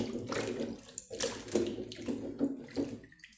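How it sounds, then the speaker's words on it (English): Cassava pieces being rinsed in fresh water, giving steady splashing and running water close by with some handling noise, sounding much like a filling sink; no one speaks. "I'm going to go ahead and rinse it with a different water to make it clean."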